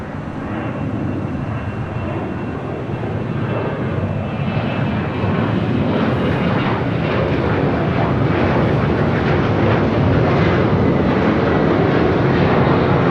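A roaring Airbus A380 airliner at LAX during reverse operations at night, a loud, continuous broadband jet rumble that holds steady and swells slightly throughout, with no voices.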